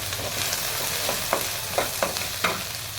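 Cashews roasting in coconut oil in a pan, heard as a steady close sizzle with several sharper scraping knocks from stirring scattered through it, and no voices.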